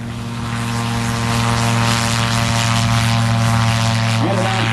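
An Apollo AR-1 gyrocopter flies at a gyro event in Wauchula, Florida. Its engine and rotor give a loud, steady propeller drone with strong tonal hum, close by and swelling slightly as it passes.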